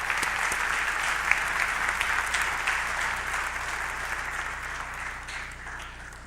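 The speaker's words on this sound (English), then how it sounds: "Please give our boys team a round of applause." Steady applause from a crowd at a fall sports awards event for a boys' cross country team, sustained clapping at moderate distance that slowly fades slightly toward the end.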